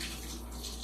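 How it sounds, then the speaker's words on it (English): Meat juice from BBQ pork loin ribs pours off in a brief, steady liquid stream that sounds close and fairly loud. "And I'm going to pour this juice off of this."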